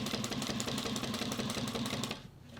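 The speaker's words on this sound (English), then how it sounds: "one of the hardest things for me with this industrial machine is the speed" A Juki 1541S industrial sewing machine stitches an unlined tote bag at high speed, giving a rapid, even mechanical chatter that stops abruptly near the end, heard up close without talk.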